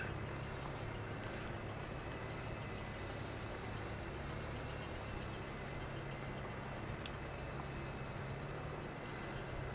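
A tractor pulling a rock picker in a farming video game gives a steady, unbroken droning rumble at even loudness throughout, with no talking.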